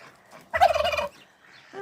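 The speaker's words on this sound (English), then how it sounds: "Oh, the cockerel's in here" A cockerel in a farm pen gives a short, loud gobbling call lasting about half a second, standing out against near silence, with another faint call just beginning at the end.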